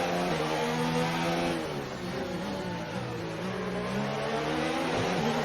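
A Formula 1 race car engine in the F1 2019 video game, during a race at Baku, screams steadily at high revs, its pitch rising and dipping with throttle and gear changes, with no talk over it.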